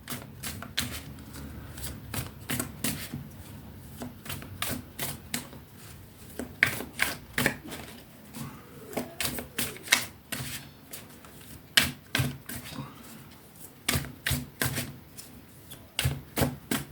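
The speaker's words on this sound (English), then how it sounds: "let's pull some tarot and see what we have" Tarot cards are shuffled by hand in a run of quick riffling snaps and soft slaps, coming in uneven bursts with short pauses between, close to the microphone and fairly quiet, with no voice.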